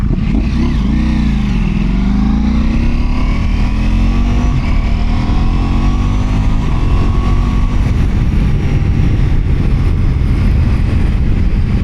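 A powerful motorcycle rides along near a kiteboarding shore, its engine a loud continuous drone that climbs in pitch early then holds steady, heavy rumble and wind close up throughout, no talk.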